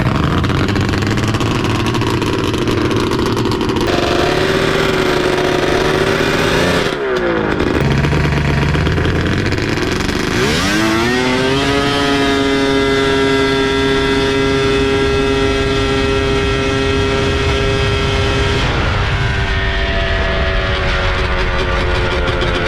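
A 600cc Yamaha Banshee ATV engine revs hard and loud through a drag run, climbing through the gears with a brief drop between shifts, then holding a steady high-pitched wail before easing off near the end.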